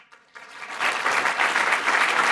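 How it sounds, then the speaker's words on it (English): An audience applauds students at a youth presentation event in Abu Dhabi, a few scattered claps swelling within a second into a full, dense round of clapping that holds steady and loud. "let us all give the students another big round of applause."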